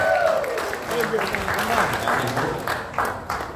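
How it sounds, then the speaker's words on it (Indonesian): A crowd applauds a gubernatorial candidate at an East Java political event, a broad, uneven clatter of clapping that carries on under voices and other background sound throughout. "Berikan tepuk tangan kepada Ibu Khofifah Indar Parawansa"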